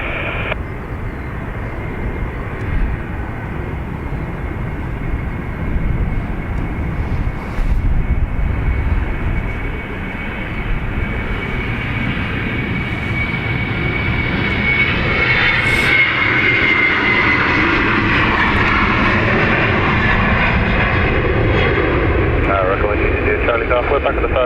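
An airliner's engines roar steadily on the runway at Dublin Airport, loud and continuous and slowly building, with radio chatter faint beneath.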